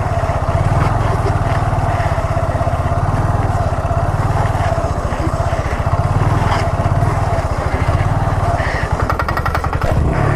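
A Honda Grom motorcycle engine runs steadily up close during low-speed sitdown circles, a continuous buzzing drone with slight throttle wobbles and no talking.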